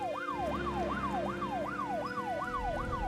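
Ambulance siren in the video game Troubleshooter, a repeating wail sweeping up and down about every half second, steady and clear over a low vehicle hum, with no voices.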